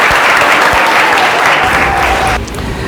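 Students applaud in a music classroom with loud, dense, sustained clapping close by that drops off sharply near the end.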